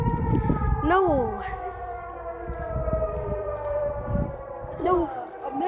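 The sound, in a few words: American tornado siren test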